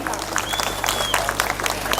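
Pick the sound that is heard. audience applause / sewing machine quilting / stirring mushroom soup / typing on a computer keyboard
audience applause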